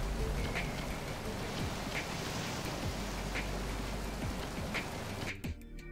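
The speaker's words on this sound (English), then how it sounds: "the rain hitting the steel" Rain drums steadily on the steel deck of a tanker in the video game Metal Gear Solid 2, a dense hiss with occasional sharper drips, before cutting to a brief muffled thud at the end.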